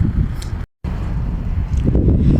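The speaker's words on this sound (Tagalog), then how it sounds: "Simoy ng hangin na dumadampi sa buhok mo." Breeze on a hot street in Saudi Arabia, a steady low wind rumble buffeting the microphone, broken by a brief dropout and swelling slightly toward the end.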